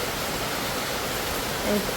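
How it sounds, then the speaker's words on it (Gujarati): Rain falls gently outdoors in an even, rushing wash of water noise with no break, while a voice rises briefly near the end. "શાંતિથી વરસાદ આવે છે"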